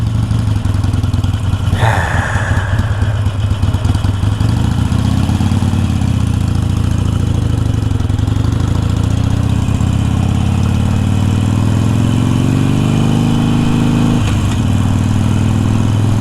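A V-twin motorcycle engine idles steadily at a stop on a hot Texas summer street, its low, even throb loud and close and running without a break, with no voices over it.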